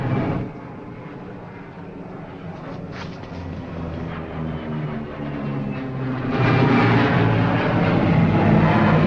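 A propeller pickup plane drones overhead in a 1940s setting, a steady low rumble that swells louder toward the end as it comes in to land.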